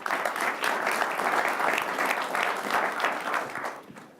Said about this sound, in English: Big round of applause to our today's panel.